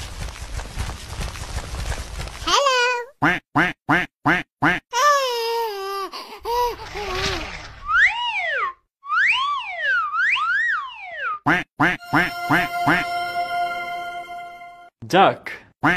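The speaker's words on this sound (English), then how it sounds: "Duck. Quack, quack" A cartoon duck for kids gives a series of short, rhythmic, high-pitched quacks and chirpy bursts with swooping tones, loud and up close, mixed with playful music-like cartoon effects.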